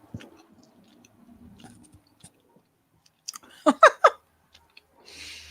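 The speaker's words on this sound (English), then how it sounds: "Oh, you probably hear my chewing." Chewy coconut and dark chocolate snack being chewed close to the mic, a few sticky, squishy bites clustered together between near silence and faint breathing.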